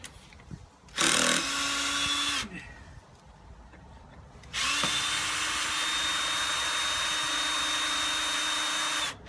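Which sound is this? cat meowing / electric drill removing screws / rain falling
electric drill removing screws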